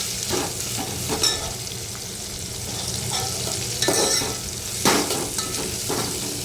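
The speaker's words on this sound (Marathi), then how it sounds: "उभा चिरलेला कांदा आपल्याला व्यवस्थित परतून घ्यायचा आहे तेलामध्ये" Sliced onion sautéing in hot oil for soybean pulao, with a steady close sizzle and repeated scraping stirs of a spoon against the pan, a few sharper clinks standing out.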